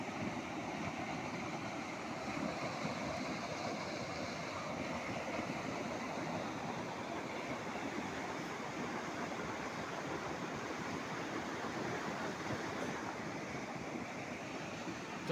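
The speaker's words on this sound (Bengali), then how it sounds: "এই দেখুন জল কিভাবে এখানে কচলাচ্ছে" Water churns steadily in a canal at Tarafeni barrage in Belpahari, a continuous broad rushing wash with no breaks, fairly soft and even throughout.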